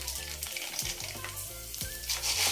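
Sago pearls sizzle and crackle steadily in hot oil in a pan for a snack mixture, with a few low stirring scrapes and thumps, close and fairly loud, no voices.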